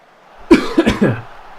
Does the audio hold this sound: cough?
yes